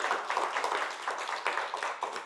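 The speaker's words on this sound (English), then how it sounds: "Let's give a good applause for all the speakers that I had in the lineup" Audience applause for the speakers at a tech meetup, a steady wash of many hands clapping that rises and falls in small surges for a couple of seconds.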